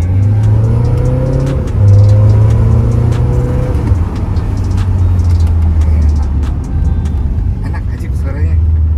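BMW F30 diesel car fitted with a new exhaust, its engine revving loud and close in a steady, droning rumble with rising pitch swings early on, while people talk nearby.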